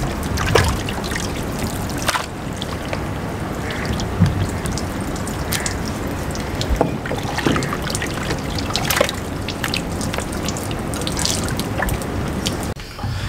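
White vinegar poured from a litre bottle onto raw beef, a steady close liquid trickle and splash running continuously with small drips and clicks throughout.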